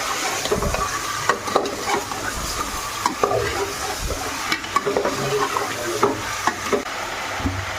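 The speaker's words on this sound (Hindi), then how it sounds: "चिकन डाल के हमें अच्छे से चिकन को पहले ऐसे मिलाना है।" Chicken being stirred and fried in a pan for white chicken biryani, with a steady sizzle under repeated scraping and clattering strokes of a spoon against the pan, close up and without talk.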